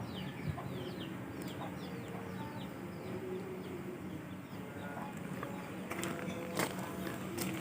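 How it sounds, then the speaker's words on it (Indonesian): Free-range village chickens cluck and murmur in a home yard garden, soft scattered calls at a moderate distance over a quiet outdoor background. "ayam kampung."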